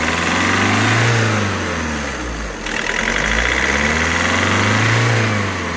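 A Volkswagen Vento turbo engine runs close by with a steady idle hum and slow swelling revs, a faint ticking knock riding under the drone.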